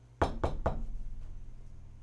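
Someone knocks on the closed wooden door of a two-story wooden house: three firm, close knocks in quick succession, then a fainter fourth, with a quiet room behind them.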